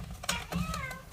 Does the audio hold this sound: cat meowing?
yes